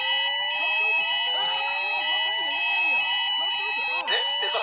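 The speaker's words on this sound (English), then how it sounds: "This is a fire alarm." A building fire alarm at a shopping mall sounds loudly and continuously, a harsh electronic tone with rising sweeping pitches layered over a steady shrill signal, followed by a brief shift near the end.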